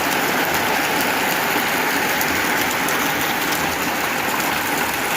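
Steady, dense rain pouring down during a trip in a storm, a continuous loud hiss with no breaks and no voices.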